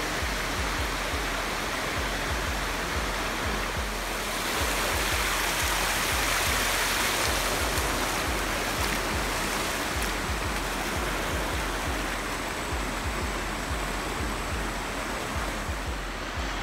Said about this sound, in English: You see that waterfall coming out that cut right there?